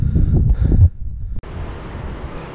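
A strong south wind buffets the microphone on the coast of the Crozon peninsula, a loud rumbling gust that drops out briefly and then settles into a steadier rushing roar.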